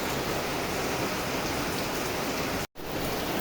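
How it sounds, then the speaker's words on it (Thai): Steady, dense evening rain hisses continuously like broadband noise, briefly cutting out for an instant near the end. "ฝนก็ตก"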